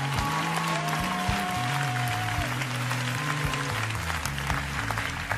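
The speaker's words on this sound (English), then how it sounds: "Your clapping says you're not even ready." A church congregation claps steadily in a dense, continuous patter through a reverberant hall, with a sustained organ or keyboard tone under the applause.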